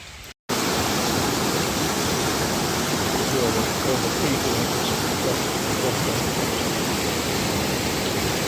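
Wild water rushes loudly through an underground passage, a dense, unbroken roar close by that starts abruptly after a brief gap and holds steady throughout.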